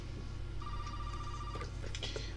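A telephone rings in the horror video game Resident Evil 7: a steady electronic bell tone over a low hum, followed by a few short higher-pitched rings toward the end.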